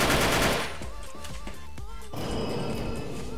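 Automatic gunfire in a shooting video game: a loud opening burst, then a rapid run of sharp shots fading into steady background clatter, with no voices.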